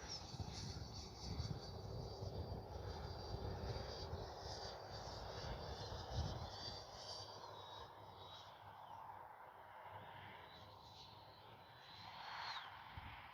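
An FMS Integral 80mm RC jet airplane flies nearby, its steady ducted-fan whine and rushing broadband roar holding throughout with slight rises and falls in pitch as it passes through the sky.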